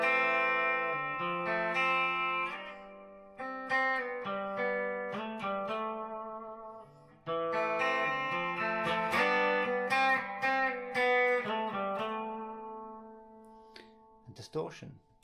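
Picked electric guitar notes with a reverb effect ringing out with a lingering, spacious tail, played in a melodic run, moderately loud with no talking.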